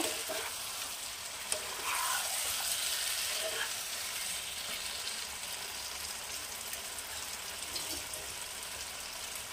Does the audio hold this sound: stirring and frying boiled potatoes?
yes